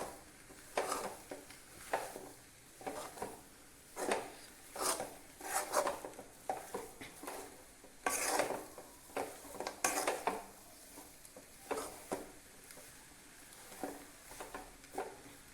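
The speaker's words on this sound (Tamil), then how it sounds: "அப்படி உதிரி உதிரியாக சட்டியில் ஒட்டாமல் வர்ற மாதிரி கிண்டிக்கோங்க" Sweet kesari stirred in a pan with a metal spoon, giving repeated scraping and clinking strokes against the pan in a steady, close rhythm with no talking.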